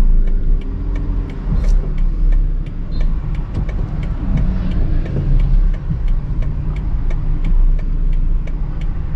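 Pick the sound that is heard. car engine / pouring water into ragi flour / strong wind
car engine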